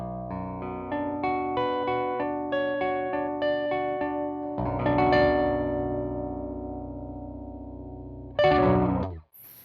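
Electric guitar through the clean channel of a Crate Blue Voodoo amplifier, with a picked arpeggiated pattern ringing out, then a sustained strummed chord decaying and a final bright strum cut short.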